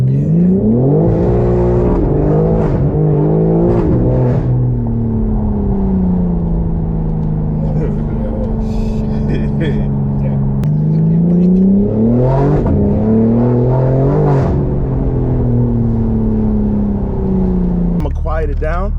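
A straight-piped BMW G82 M4 engine running up close, loud and raspy, with repeated revs rising and falling over a rumbling idle, and voices talking over it.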